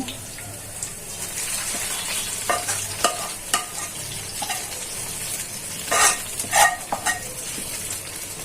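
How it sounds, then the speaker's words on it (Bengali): Hot tempering with ghee goes into runny khichuri, producing a steady sizzle with repeated spatula stirs and scrapes, a few louder bursts near the end. "এখানে সম্বারটা দিয়ে দিচ্ছি।"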